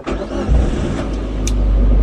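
A rental van's engine cranks and starts, then settles into a steady, loud mid-range drone that builds slightly as it begins to pull away, close up with no talking.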